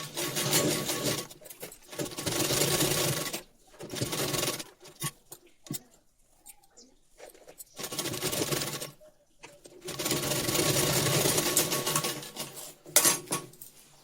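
A sewing machine stitches a princess cut blouse in bursts of rapid, steady whirring, several runs of a few seconds each broken by short quiet pauses, close and fairly loud with no talking.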